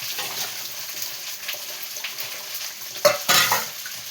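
Vegetable curry frying in a pan, a soft continuous sizzle near the mic with a couple of louder scraping stirs toward the end, no one speaking.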